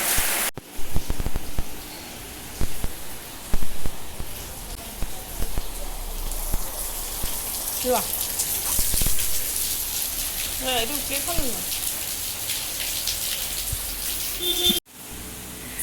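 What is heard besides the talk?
heavy rain falling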